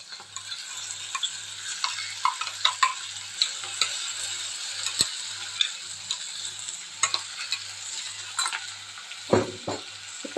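Ground mint-coriander paste frying with onions in a pan for mint-coriander rice gives a steady, soft sizzle broken by scattered clicks and scrapes of stirring, with a low pulsing hum underneath.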